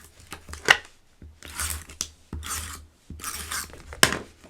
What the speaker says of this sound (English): I am just going to add some tape